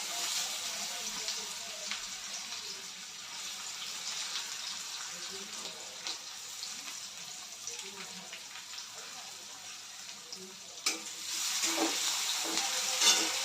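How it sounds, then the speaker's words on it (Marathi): Onion added to a hot pan with fried garlic for a garlic-fenugreek dish gives a steady broadband sizzle throughout, fairly close, with a brief louder crackle near the end. "आता याच्यामध्ये टाकतोय आपण कांदा"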